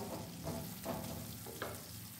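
Spice paste sautéed in a pan for a stuffed paneer pasanda gravy gives a low, close sizzle with a few soft scraping stirs, brief and fairly quiet, with no talking.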